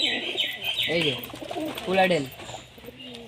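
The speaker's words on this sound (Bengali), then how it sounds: "নর পায়রা, ঠিক আছে।" A full-grown male pigeon coos close by in a few rising and falling calls, while someone speaks briefly over it.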